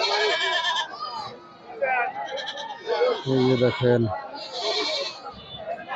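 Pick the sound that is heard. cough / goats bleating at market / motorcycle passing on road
goats bleating at market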